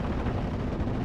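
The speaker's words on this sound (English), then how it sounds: "Got a strafing run onto the regular Sherman, or the Sherman 76." Rapid aircraft strafing gunfire raking a Sherman 76 tank in a World War II strategy game, a dense continuous roar of automatic fire and impacts filling the whole moment with no pauses.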